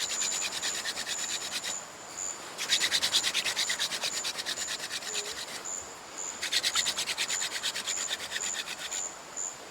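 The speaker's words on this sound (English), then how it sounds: "When I drill, a powder will collect and that will eventually start to glow." A wooden fire drill spins against a hearth board in a rainforest camp, grinding out ember powder with a close, rhythmic rasping that comes in two strong bursts separated by lighter rubbing, no voices.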